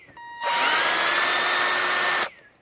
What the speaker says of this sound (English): So I'm gonna start drilling right here.